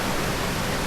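Mountain stream in the Southern Alps running through a chain of small cascading waterfalls, a loud, steady broadband rush of water filling the whole moment with no voices.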